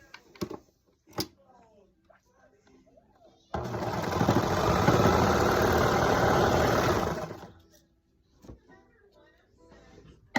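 A serger stitches along the shoulder and top edge of lining pieces for a petal romper, a loud, fast mechanical whir lasting about four seconds, with a voice speaking quietly before and after it.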